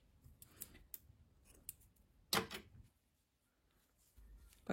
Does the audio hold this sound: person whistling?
no